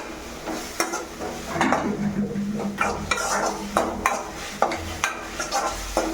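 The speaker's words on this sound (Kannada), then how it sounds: "ಎಲ್ಲ ಇವಾಗ ಫ್ರೈ ಆಗ್ತಾ ಇದೆ" Avalakki (flattened rice) fries in a pan while a spoon stirs and scrapes it, giving a steady sizzle broken by repeated sharp metallic scrapes and knocks, close and fairly loud.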